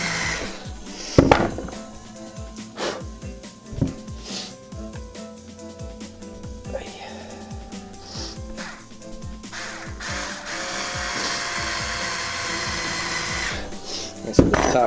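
Screws being driven into the pine wood of a DIY bowed guitar cello during a pickup system install, with bursts of close drill whirring, creaks and knocks, and a longer continuous run of driving near the end.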